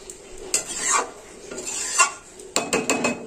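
Tomato chicken being stirred in a pot, a spoon scraping and knocking against the metal in irregular bursts, close and moderately loud.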